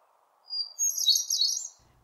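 One hermit thrush phrase rings out alone: a pure, whistled lead-in note and then a quick, tumbling, ethereal flourish. It is moderately loud and close, with faint low background noise under it.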